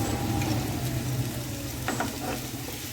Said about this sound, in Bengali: পেঁয়াজ টমেটো কাঁচা লঙ্কা একসাথে ভালোভাবে ভেজে নিচ্ছি